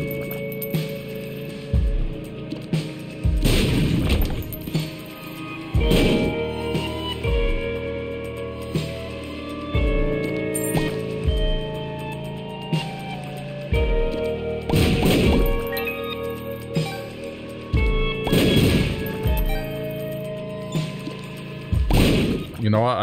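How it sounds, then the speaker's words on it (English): Explosions in the video game The Binding of Isaac: Repentance go off as a series of loud, sharp blasts and thuds over about twenty seconds, heard alongside steady game music. "I think it's only the initial explosion that does damage to me."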